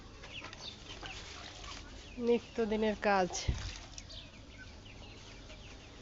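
Chickens let out in the afternoon to graze on grass in a small garden farm give a short burst of loud, close clucking midway, while someone talks quietly over light background noise.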